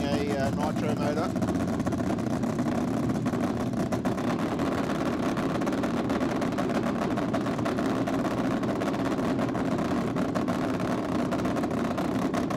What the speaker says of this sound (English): Ah, the sound of nitro, I love it.